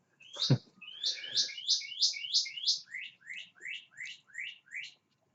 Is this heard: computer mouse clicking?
no